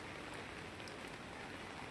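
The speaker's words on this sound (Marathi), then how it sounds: "आता पाऊस चालू आहे" Steady rain falls at a resort in Karjat, a dense, even hiss of drops on surfaces filling the whole moment without any voices.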